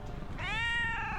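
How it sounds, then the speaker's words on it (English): A cat meows once in The Darkest Files video game, a drawn-out, tonal call that rises and then holds steady, heard close and clear over low background hum. "Oh, hello, That's Meow. meow"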